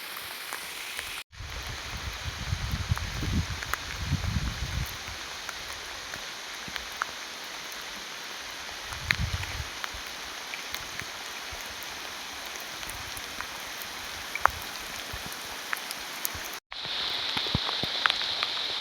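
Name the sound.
heavy rain falling near a dam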